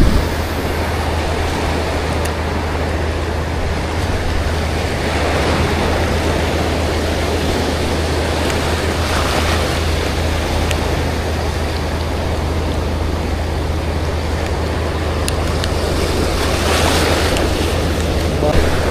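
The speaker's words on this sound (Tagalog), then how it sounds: "Ang lalaki ng alon mga buddy dito. Malakas pa yung hangin." Large ocean waves crash and surge under strong wind at a coastal fishing spot, a steady broadband roar of surf and gusting wind buffeting the microphone throughout, with occasional louder swells.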